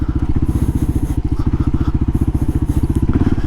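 A 2005 KLR 650 motorcycle rides through soft sand, its engine chugging loud and close in a fast, rhythmic run of heavy thumping pulses with no voices.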